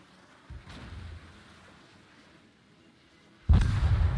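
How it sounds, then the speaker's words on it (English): A naval explosion on open water in the World of Warships video game: a brief thump, then a loud, sustained low rumbling blast that rolls on to the end over wind-like ocean ambience. "there's an explosion in the middle of the water"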